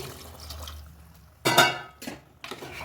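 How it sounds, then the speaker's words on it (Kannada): Water poured into a cooking pot of green chicken curry, a few short, close splashing bursts, the loudest in the middle, over a quiet kitchen background. "ನೋಡಿ ನೀರು ಹಾಕೊತಾ ಇದ್ದೀನಿ"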